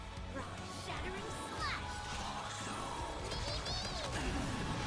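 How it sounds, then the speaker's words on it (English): Rock shatters in the Honkai video game, a loud crashing smash with crumbling, clattering debris and swishing effects inside a dense, continuous mix of game sounds and voices. "Rock shattering"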